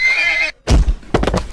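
A horse gives a loud, close whinny that breaks off, then heavy hoof clip-clops and snorting-like bursts follow in a quick uneven rhythm.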